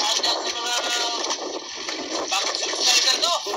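Sea waves slosh and splash against a small boat out on open water in strong wind, a continuous broadband wash rising and falling close by, with no talk over it.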